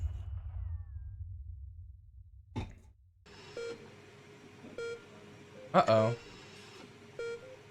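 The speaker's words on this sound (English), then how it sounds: "The rhythmic beeping of the heart monitors bring you slowly back to consciousness." Heart monitors in the video game Not for Broadcast give a series of short electronic beeps at an even pace of roughly one per second, after a brief spoken exclamation and a sharp noise.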